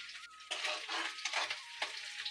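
Garlic and green chili hit hot oil in a kadhai, giving a steady, close hiss of frying that swells and dips in waves as the pieces are stirred, with no voices over it.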